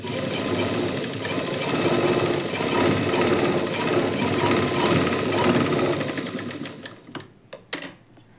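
A sewing machine stitches a lining blouse in one loud, continuous rattling run lasting several seconds, then stops, leaving a few scattered clicks.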